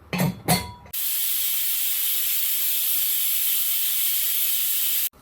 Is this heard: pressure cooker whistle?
yes